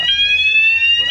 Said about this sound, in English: There's fire alarm.